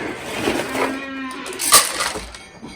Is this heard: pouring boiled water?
no